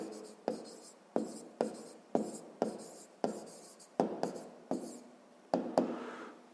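A math proportion written down for a sixth-grade exercise: about a dozen short, crisp strokes of pen or chalk in a steady rhythm, close and soft, with no voices.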